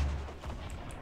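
Grenades launched and bursting in the Fortnite Battle Royale video game, heard as a dull, rumbling boom with a broad crackling edge, fairly quiet and without speech.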